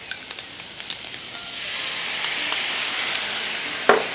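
Butadon tare sauce hits a hot pan over high heat with vegetables for a chop steak rice bowl, a steady loud sizzle swelling after a few faint crackles, with a clink of a utensil near the end.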